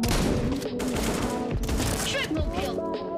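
Loud, dense gunfire from the shooter game Bullet Angel, with shotgun blasts among continuous overlapping shots and game sound effects, sustained throughout with no pauses.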